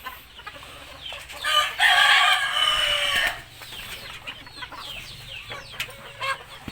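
Chickens cluck and a rooster crows loudly and nearby in a long strong burst, then quieter clucking and calls continue in the background.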